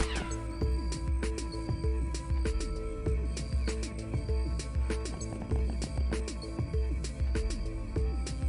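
A cat meows repeatedly over a busy background of sharp game-like sound effects and music, the cries loud and close, coming in irregular bursts.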